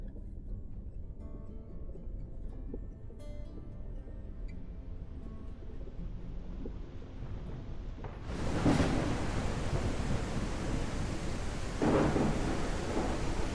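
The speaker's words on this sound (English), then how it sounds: "vaguely hear the rain and the thunder." Steady heavy rain falls throughout a stormy video-game scene built in Unreal Engine, with a loud thunder crack breaking in partway and a second rumble near the end, no voices.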